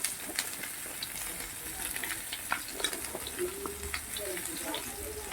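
Kohlrabi frying in a pan for a vegetarian winter dish, a steady soft sizzle with scattered crackles and occasional stirring clinks, heard close and fairly quiet.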